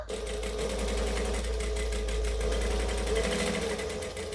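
A sewing machine stitches and back stitches a wristlet seam, its motor humming loud and steady with a rapid needle rhythm running the whole time.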